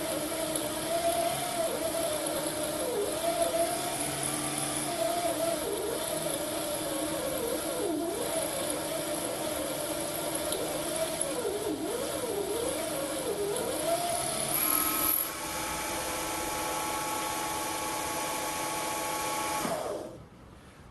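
A 775 DC motor runs on a GOPHERT CPS-6005 60V 5A variable power supply, giving a steady close whine whose pitch wavers up and down. It drops to a lower, steadier hum partway through, then cuts off near the end.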